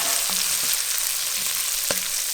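Onions and garlic frying in a pan for kadhi pakora give a steady, close sizzle, broken by a few soft stirring knocks and scrapes.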